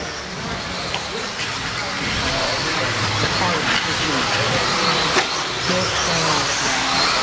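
Stock buggy RC cars racing on a track produce a continuous broadband whine and hiss, with a race commentator talking throughout.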